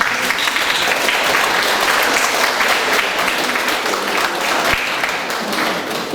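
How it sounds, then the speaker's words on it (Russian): Sustained applause from parents and pupils at a school's ninth-grade last-bell ceremony, dense, steady clapping filling about six seconds with no talk. "подарим ваши аплодисменты."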